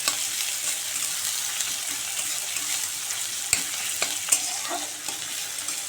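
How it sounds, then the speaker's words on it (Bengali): Chopped onions sizzle in a pan in a steady, gentle frying hiss, broken by a few sharp clicks and scrapes as they are stirred. "পেঁয়াজটা একটু ভাজা ভাজা করে নেব।"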